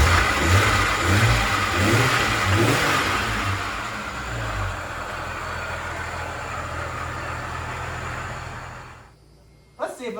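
An old Jeep Cherokee that sat for years runs with a loud idler, an exhaust leak and oil burning off; the engine rumbles steadily close by with a pulsing low throb that fades out near the end, under a person talking.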